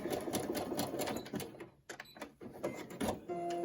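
A sewing machine zigzag stitches across the pleats and strings of a cloth face mask, fast rhythmic clattering of the needle in short bursts with a brief pause midway, close and clear.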